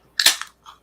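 A beer bottle cap pops off with a sharp crack and a brief fizzing hiss, followed by a fainter puff of gas, close and with no talk.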